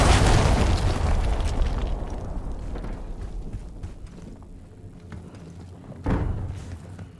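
Hellstorm missile explosion in the video game Call of Duty: Black Ops 6: a loud, broad roaring blast that slowly decays over several seconds, with a smaller second thump near the end.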